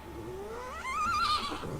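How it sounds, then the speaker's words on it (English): A horse in the video game Medieval Dynasty gives a single rising whinny, faint at first and swelling into a shrill, quavering neigh, with a soft hoof clop or two underneath. "Yeah, I hear you, horse."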